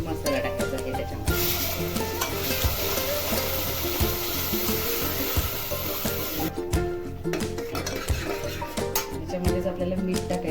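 Masala stirred in oil over low heat for katachi amti crackles in a continuous sizzle with repeated scraping spoon strokes, a broad hiss swelling through the middle; background music runs beneath.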